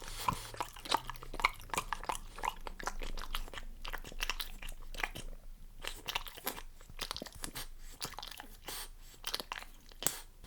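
A dog crunches and chews a freeze-dried minnow, with a close series of irregular crisp bites and crackles and a few quieter pauses between bursts.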